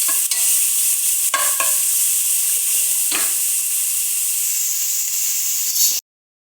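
Onions and tomatoes frying in a pan for Indian-style masala macaroni, a loud close sizzle with several distinct spatula scrapes as they are stirred, ending abruptly.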